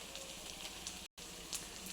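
Chicken pieces frying on a dosa griddle over a low flame, a steady dense sizzle with crackling pops throughout, broken by one brief dropout, with no talk.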